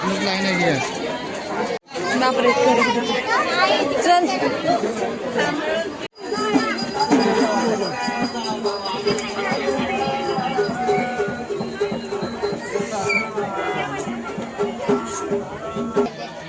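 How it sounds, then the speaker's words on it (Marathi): A large crowd climbs the steps at Jejuri temple, continuous babble of many voices and nearby talk with shuffling movement, steady and close, broken by two brief cuts to silence. "भरपूर प्रमाणात गर्दी बघा चढायला आम्ही अजून दहाच पायऱ्या चढलो असेल एवढी गर्दी"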